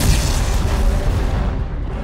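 A grenade explodes in Dead Space 3 with a loud, close, rumbling boom that fills the clip and then slowly fades.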